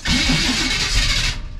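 CUCV military truck with a fuel-injected engine cranking with a rapid rhythmic churn, loud and close, for about a second and a half before it cuts off.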